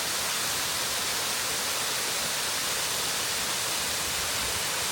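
A constant, dense roar of rushing water at the Cascade des Tufs near Les Planches-près-Arbois, loud and unbroken from the nearby waterfall.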